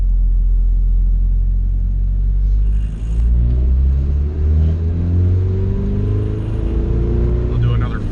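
A turbocharged B20V Honda engine in an EK Civic pulls hard under acceleration, a loud, close rumble rising steadily in pitch through the gear with a brief dip near the three-second mark.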